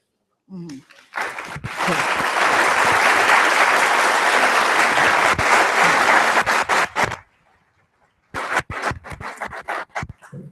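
Audience applause welcoming Professor Ursula Lehr at a conference, a sustained dense clapping from a large crowd for several seconds, then fading into scattered claps before a second brief burst.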